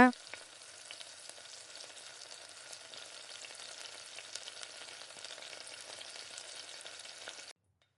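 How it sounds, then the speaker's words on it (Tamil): A ladle stirs sugar syrup for gulab jamun in a pot on the stove, giving a steady bubbling simmer with soft scraping strokes for several seconds before it cuts off abruptly, with no talking. "இந்த மாதிரி நல்லா கரண்டியை வச்சு இந்த மாதிரி நல்லா கிளறி கொடுங்க"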